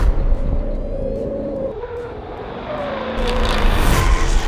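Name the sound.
Jaguar F-Type braking and accelerating on track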